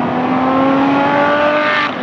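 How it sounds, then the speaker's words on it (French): A brand-new Ferrari 599 GTO sports car drives with a steady, loud engine drone and sustained tonal harmonics throughout, and the pitch holds nearly constant before dipping slightly at the end; no voices are heard. "pour voir Joël Rivière de Prestige Racing au volant de cette sublime 599 GTO flambant neuve"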